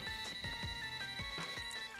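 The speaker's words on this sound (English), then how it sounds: "And phone call." A phone rings in the No More Heroes video game, a faint, repeating electronic ringtone with steady tonal pulses.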